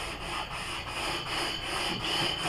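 Hand sanding with 220-grit sandpaper during a 1985 Chevy K10 restoration, a steady close-up rasping rub that continues without a break at an even loudness, with no talk.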